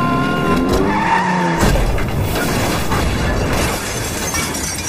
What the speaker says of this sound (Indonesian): Brian mengendari mobilnya rela berkorban nyawa menabrakkan diri ke mobil Ken yang melaju kencang